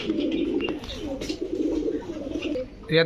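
A flock of Kaldom pigeons coo softly in a low, throaty murmur, several birds overlapping continuously, with a brief louder flutter near the end.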